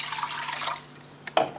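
Tap water runs and splashes into an empty cooking pot for about a second, followed by a couple of brief clinks and a spurt of pouring, heard close and fairly quiet with no talking.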